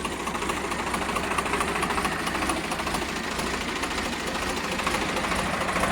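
A Sawraj 834 tractor engine in sound working order runs steadily close by, with a loud, even diesel chugging and a fast rhythmic knock that holds constant throughout.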